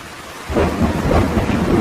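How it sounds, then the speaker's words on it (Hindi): Heavy rain pours steadily as thunder rumbles in, the roar swelling loud and low after a quieter first half-second and staying dense to the end. "बारिश बहुत तेज थी।"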